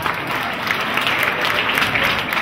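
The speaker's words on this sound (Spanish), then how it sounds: "pido un aplauso para el arquitecto don Arturo Gil" An audience gives steady, loud applause for an architect, a thick wash of clapping that holds evenly from start to finish with no speech.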